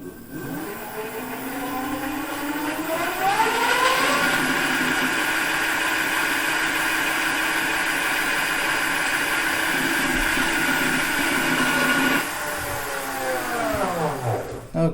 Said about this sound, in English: So let's just see what the top speed. This is unladen, by the way